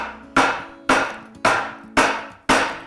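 A saucepan holding frothy lemon posset is banged down on a surface five times at a steady pace, each bang a sharp, loud knock with a short ringing decay, no talking.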